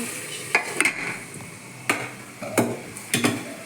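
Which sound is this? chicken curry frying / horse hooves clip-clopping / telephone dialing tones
chicken curry frying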